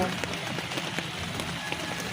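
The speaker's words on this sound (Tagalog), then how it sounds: "it's raining outside" Steady rain pattering on a surface, a dense continuous hiss with scattered drip ticks, fairly loud and close throughout.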